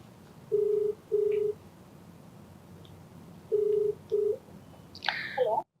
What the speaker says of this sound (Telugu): సో నెంబర్ ఇచ్చారు, కాల్ చేసేస్తాను.